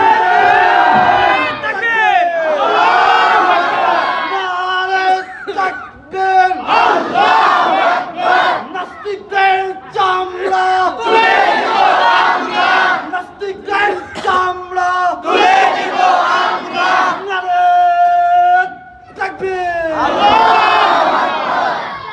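A large crowd at a religious rally led by a mosque's former khatib shouts slogans in loud rhythmic bursts, repeated call-and-response chants with short pauses between phrases.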